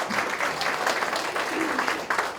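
A church congregation gives a round of applause to two new guests, a soft, continuous wash of clapping that stays even and somewhat distant throughout.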